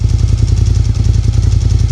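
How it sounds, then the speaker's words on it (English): Japanese V-twin superbike engine idling close by, a steady loud low-pitched throb with regular pulsing beats, no voices. "hopefully you can hear me over the sound of this roaring V-Twin"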